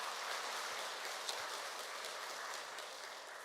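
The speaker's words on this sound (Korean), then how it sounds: "박수 한번 드릴까요?" Congregation applauding at a regular Won Buddhist temple service, steady dense clapping from many hands sustained throughout at moderate distance, no voices.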